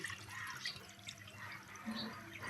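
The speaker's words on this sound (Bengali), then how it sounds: "গামলার মধ্যে পরিমাণ মতো জল দিয়ে দিচ্ছি" Water is poured into a metal cooking pot on a gas stove to boil lentils for vegetable dal, a soft continuous splashing and trickle heard close and fairly quiet.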